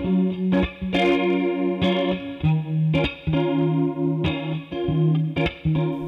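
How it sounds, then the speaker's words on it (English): Electric guitar played through a DigiTech Luxe compact polyphonic detune pedal, giving a thick doubled, shimmering tone to a repeating riff of picked chords and single notes, loud and close with no talking. "This is DigiTech's first compact detuning pedal."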